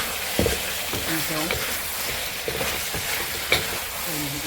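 Chicken breast, mushroom and capsicum stir-fry in a pan with a steady close sizzle, broken by a few spatula scrapes and knocks, while a voice talks faintly underneath.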